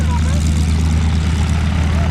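Steady propeller engine drone from display team aircraft taxiing out at an air festival, loud and continuous, with a commentator's voice over the engine noise.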